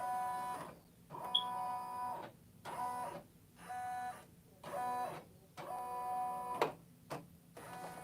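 A home embroidery machine runs a trace pass on a kids' jacket with the needle raised, its frame knocking against the hoop clamp in repeated bursts of mechanical whirring and ticking separated by short pauses.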